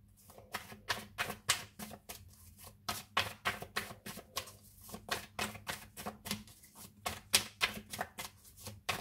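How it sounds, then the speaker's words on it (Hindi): A deck of tarot cards is shuffled over and over, quick papery riffles and flicks in a steady uneven rhythm, close and fairly soft, with no talk. "अभी टैरोट से कुछ कार्ड्स निकालते हैं और देखते हैं यहाँ से क्या आता है"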